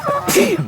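A single sharp sneeze bursts out close by, brief and forceful, with a small breathy catch just before it.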